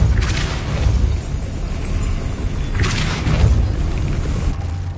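A Depulso spell goes off in Hogwarts Legacy, two booming whooshes over a deep, rumbling background, the second arriving about three seconds after the first.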